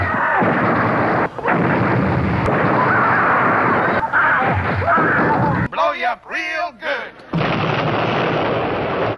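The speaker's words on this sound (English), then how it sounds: "Almost everything explodes in this scene, even the water explodes." Explosions from a fight scene in the film Infra-Man come as dense, loud blasts and rumbling bursts. Voices follow in the latter part amid choppy gaps.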